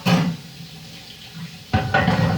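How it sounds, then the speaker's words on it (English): Kitchen tap running as a cutting board is rinsed, with short bursts of splashing water, a pause, then a louder gush with light clatter near the sink. "And I would wash the board now."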